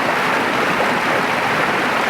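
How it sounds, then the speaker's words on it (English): Flowing stream water along the Colby Canyon trail, a steady broadband rush heard close and loud with no other sounds over it. "Flowing water throughout our hike, especially here in the beginning."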